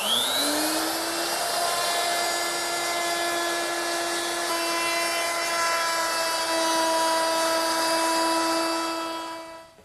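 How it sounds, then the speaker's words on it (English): A router fitted with a 1/4 inch round-over bit cuts along ash table edges, a loud, steady high whine that holds for nearly ten seconds before winding down at the end. "to do that, I'm going to use my 1/4 inch rounding over bit"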